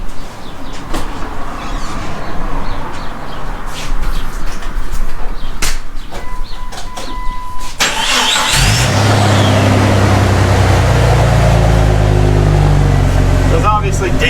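A Jeep Cherokee with a straight-pipe exhaust starts inside a garage partway through, jumping from quiet background noise into a loud, steady, low idle rumble that fills the space.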